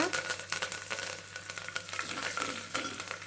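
Dried red chillies and curry leaves crackle and sizzle in hot oil while being stirred, making a dense, close, busy frying hiss with scattered pops throughout.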